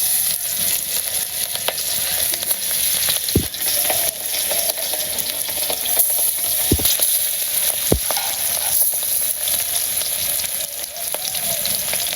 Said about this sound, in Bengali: তেল গরম হয়ে গেছে মাছ দিয়ে দিই